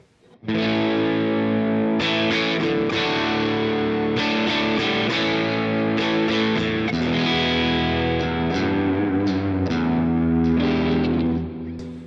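Electric guitar played through a Line 6 HX Stomp with overdrive, shaped EQ and a fairly wet reverb, strummed chords ringing continuously and loud for about eleven seconds before trailing off at the end, with no talking.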